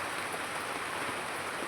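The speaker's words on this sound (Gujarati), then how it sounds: "ગોંડલની અંદરમાં ખૂબ જ વરસાદ વરસી રહ્યો છે" Heavy monsoon rain pours down in Gondal near farm fields, a steady, dense hiss of falling water that stays even and unbroken throughout, with no voices.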